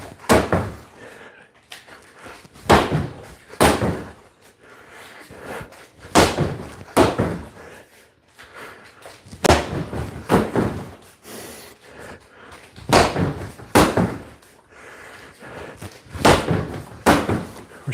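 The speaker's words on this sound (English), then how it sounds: "So some round kicks." Round kicks strike a heavy punching bag during a martial arts fitness session, landing as a series of loud, sharp thuds spaced a second or two apart, some in quick pairs, with a faint room background between impacts.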